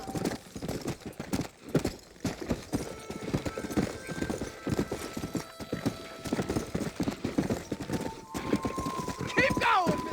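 In Red Dead Redemption, a horse gallops with rapid, loud clip-clop hoofbeats that keep up a steady driving rhythm, with a brief whinny near the end and game music tones under the hooves.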